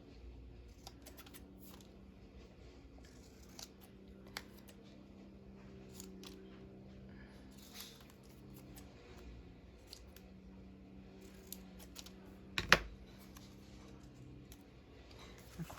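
Faint snips of scissors trimming book pages come in scattered, quiet clicks over a low background hum, with one sharper snap near the end.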